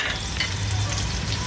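Chopped onions fry in a pan for goat head curry, a loud, steady sizzle close up with light stirring and no one speaking.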